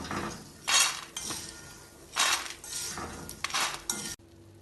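A spoon scrapes and clinks against a pan as fried edible gum, cooked in ghee, is scooped out onto a plate, several bursts of metallic scraping with short pauses between.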